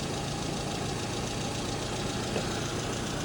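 A car engine idles steadily on a carburettor being tuned for fuel mixture, running just slightly lean; a continuous, even rumble with no revving and no voices.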